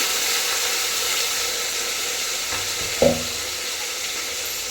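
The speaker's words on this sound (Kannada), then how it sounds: "ಈರುಳ್ಳಿ ಡ್ರೈ ಆದಮೇಲೆ ಟೊಮೊಟೊನ ಹಾಕ್ತಾಯಿದ್ದೀನಿ" Onions and curry leaves fry in a pan for drumstick and radish sambar, giving a steady hiss with a brief soft clatter and a fresh burst of sizzle as tomatoes go in.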